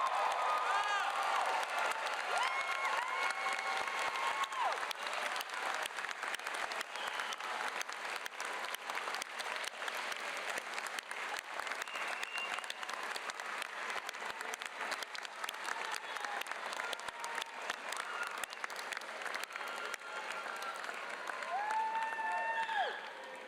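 A large graduation audience at an engineering baccalaureate commencement claps and cheers for family and friends, a dense, steady wall of applause with scattered whoops that runs throughout at an even level.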